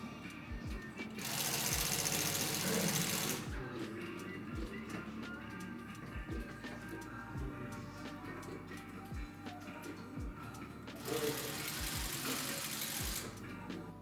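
A sewing machine stitches a leather watch strap in a workshop with a steady mechanical hum, sharpening into two louder runs at the start and near the end, with regular low thumps beneath.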